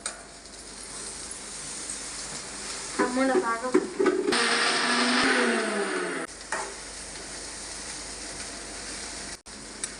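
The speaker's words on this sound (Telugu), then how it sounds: "ఇవన్నీ వేసుకున్నాక మిక్సీ పట్టుకోవాలి." A kitchen mixer grinder whirs loudly for about two seconds as it grinds onions with salt and pepper powder. A voice comes just before the burst, and quieter room noise follows it.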